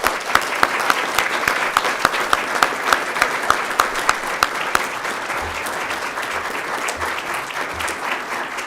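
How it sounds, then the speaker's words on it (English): A sustained round of applause from an audience at a police department pinning ceremony, with sharp individual claps standing out early before settling into an even, dense clapping that continues to the end. "Let's give them one more big round of applause."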